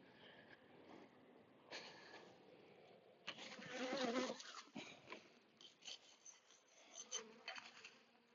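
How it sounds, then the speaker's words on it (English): Honeybees hum and buzz around a busy hive and a full feeder in a calm, sunny spot, a close, fluctuating drone with occasional louder passes near the microphone. "The feeder's full of bees."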